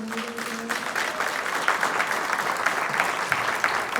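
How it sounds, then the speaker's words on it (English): A room audience applauds a real estate investing panel in Kansas City, a dense, even roar of many clapping hands sustained at moderate volume, with a brief voice at the start. "Can we give them a round of applause?"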